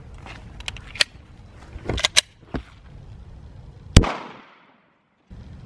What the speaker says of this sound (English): let's shoot it with the hollow point